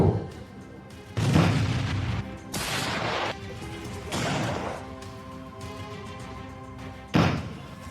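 A carbide gun fires four loud, sharp booms at irregular intervals, each followed by a short rumbling decay, with a low background hum between blasts.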